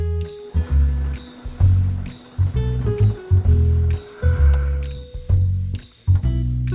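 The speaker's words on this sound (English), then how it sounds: "After letting the tea infuse for 5 minutes, I blend it with dates." Blender whirring as it blends infused Moroccan mint tea with dates, a loud low-pitched motor hum in repeated bursts with brief pauses between pulses, no voices.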